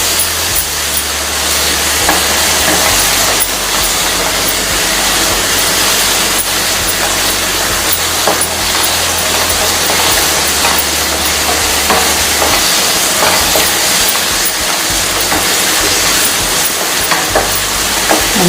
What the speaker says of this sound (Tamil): நல்லா இப்போ ஒரு நிமிஷம் நல்லா கலந்து விடலாம்.